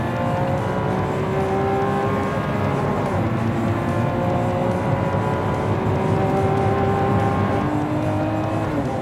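The huge naturally aspirated V12 of a 2016 Lamborghini Centenario revs continuously from inside the car, a loud, dense engine note that rises and shifts through gears with steady intensity.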